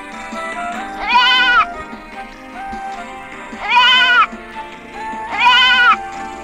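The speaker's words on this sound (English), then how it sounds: "Baby sheep." A baby sheep in the Sakura School Simulator video game bleats three times in a row, each call loud, close and tonal, with short quiet gaps between them and no talking.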